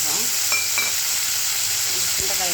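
Turkey berries frying in oil in a pan for a turkey berry and peanut curry, a steady hiss of sizzling with a few light stirring scrapes, close and alone.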